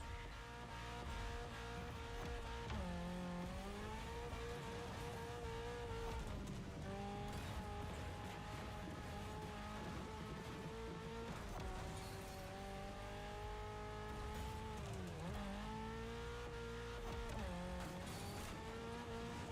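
A Mitsubishi Evo X driven in The Crew Motorfest, engine droning steadily and rising and falling in pitch with gear changes and revs, occasional tire squeal, continuous and close.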